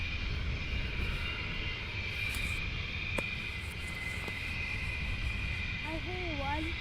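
Distant F-15E fighter jet engine at RAF Lakenheath, a steady broad roar with hiss held throughout, faint and far off, with birds chirping briefly near the end.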